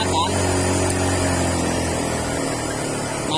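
A Honda EU10i portable generator runs steadily in eco mode with a smooth, even hum at close range, holding a constant pitch throughout.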